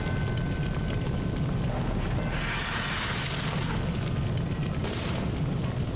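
Fire ignites in Alone in the Dark (2008) with a dense, roaring rumble that runs throughout, swelling into two bright whooshing bursts, and no voices are heard.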